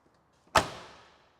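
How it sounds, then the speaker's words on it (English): A door on a restored Chevy K10 pickup truck slams shut once with a solid, close thump that rings out and decays over about a second. "you can see the doors closed super good"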